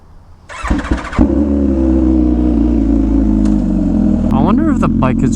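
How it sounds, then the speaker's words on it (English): A motorcycle with a loud custom Rush exhaust fires up and settles into a loud, steady, rumbling idle close by, with a brief rev at the start and a voice speaking near the end. "The bike is revving a little too loud"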